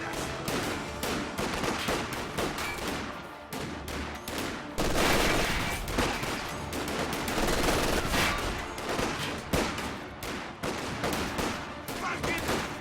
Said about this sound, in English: Those Schweinhunde are shooting at us!